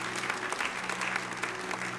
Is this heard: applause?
yes